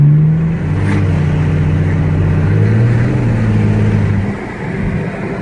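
A car engine pulls under moderate throttle with the windows down at a car meet, a steady, loud droning hum with a rising tone that eases off near the end.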